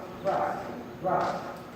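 Hooves of a horse during a riding lesson, two soft rhythmic clip-clop footfalls close by, with background speech at times.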